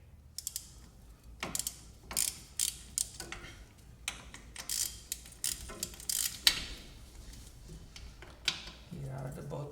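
A socket ratchet turns 14 mm nuts off the rear axle of a Toyota Tacoma, giving quiet, close, intermittent bursts of rapid clicking separated by short pauses, with faint shop background.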